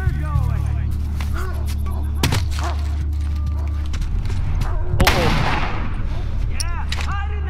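Sniper rifle shots ring out in The Last of Us, two sharp cracks a few seconds apart, loud and close, over a low rumble while voices talk in the background.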